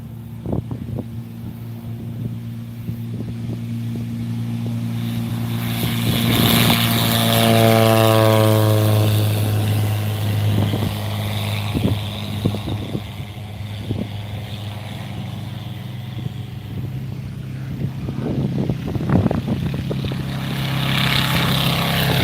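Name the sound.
replica WWI Nieuport 17 aircraft with Volkswagen engine taking off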